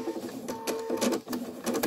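Viking Designer embroidery machine stitching a tack-down pass on minky fabric in a magnetic hoop, a close, steady mechanical whirr with rapid rhythmic needle pulses and faint clicks, no talking.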